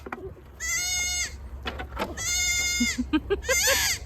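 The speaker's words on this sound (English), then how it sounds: "The baby goat is very small." Newborn Alpine goat kid bleating in two long, wavering calls, then a run of short, rising bleats, close and clear with little else around.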